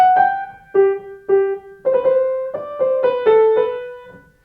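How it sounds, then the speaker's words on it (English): Petzold's Minuet in G, measures three to five, played on a keyboard instrument with mordent ornaments, a short phrase of clear sustained notes with quick ornamental flicks, close and alone. "So if you played measure 3, 4, 5 with the mordents, it would sound like this."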